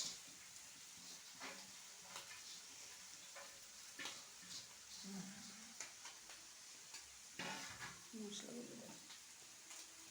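Chowmein with scrambled egg is stir-fried in a pan, giving faint sizzling and intermittent scraping stirs against a quiet kitchen background.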